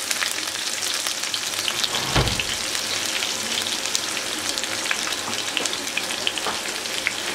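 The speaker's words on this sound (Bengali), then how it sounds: "পেঁয়াজটাকে একদম বাদামি করে ভেজে নেব" Chopped onions fry in ghee toward brown, giving a dense, even crackling sizzle close by with one brief scrape of a spoon partway through; no talk.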